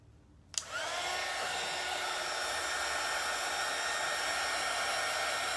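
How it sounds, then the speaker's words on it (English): A small hair dryer clicks on and then blows a loud, steady whooshing drone over a wet painted image, the airflow holding level after the switch-on. "let me just get my little dryer here. And we're going to dry up a few of these"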